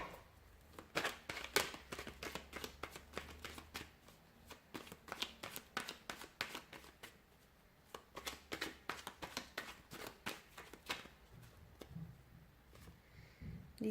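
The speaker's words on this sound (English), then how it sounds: "So we'll give the cards a shuffle" Tarot cards are shuffled by hand in a long run of crisp riffling bursts and soft slaps, repeated at an uneven pace, close up and fairly quiet, with no talking.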